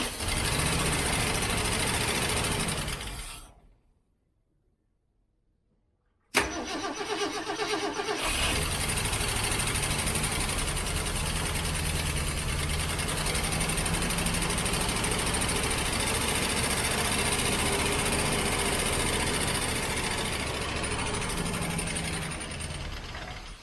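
A 1967 Ford Mustang with a 390 V8, suffering vacuum leaks and fuel inlet problems, runs loud and close, cuts out for a few seconds, then fires back up and settles into a steady, slightly uneven idle.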